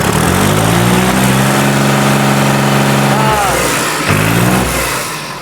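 A loud tractor engine runs close by, revving steadily with a droning hum, then cuts and briefly surges again before easing off, in a Punjab village.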